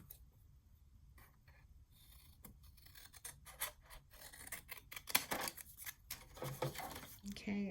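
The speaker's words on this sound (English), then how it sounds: "So just snip those." Scissors snip strips of 8x8 patterned paper for a mini ATC album: a run of quiet, irregular close-up cuts and rustles, growing busier toward the end.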